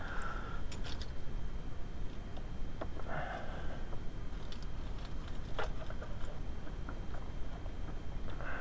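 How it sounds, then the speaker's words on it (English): A car key jangles on its ring as it turns to release the steering lock of a VW A3 during ignition switch removal, the small metallic clinks coming in scattered bursts over a steady background hiss. "you'll need to unlock the steering lock with the key so that this assembly can slide up"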